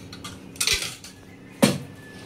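Two sharp metallic clanks of utensils against a hot kadai while oil goes in for prawn masala, each a short knock with a brief ring, separated by quiet kitchen stillness.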